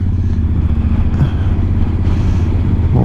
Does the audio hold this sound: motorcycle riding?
yes